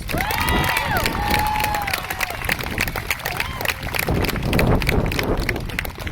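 Outdoor crowd at a racial justice march applauding and cheering, with a steady wash of clapping and whoops, fairly loud and close, and voices shouting over it near the start.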